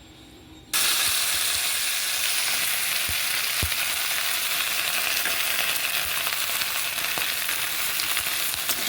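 Okra slid into hot oil in a wok with a little salt and turmeric bursts into a loud sizzle after a brief quiet start, then fries with a steady, dense crackle and a few faint knocks.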